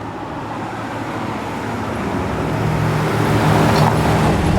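A 1967 Chevrolet Impala SS 427 V8 runs with a steady low rumble at a car reunion, the engine growing gradually louder amid outdoor background noise.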